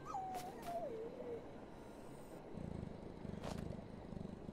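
A dog caught in a trap in the horror game Maid of Sker whimpers with a thin, wavering, falling whine near the start, followed by quieter low rumbling and a few soft thumps.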